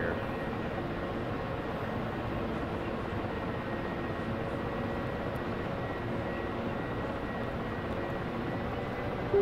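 A Ka-50 Black Shark helicopter in DCS taxis toward the runway, giving a steady, even rotor and turbine drone at moderate volume that holds for the whole stretch without change.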